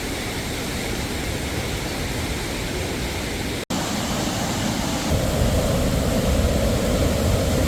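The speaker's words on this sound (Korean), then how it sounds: "복숭아탄과 도문폭포까지 이우람한 물소리를 계속 들으며 갈 수 있습니다" Rushing water of a mountain valley stream in Seoraksan's Sibiseonnyeotang valley pours in a dense, unbroken roar, close and loud, briefly cut once and swelling slightly toward the end.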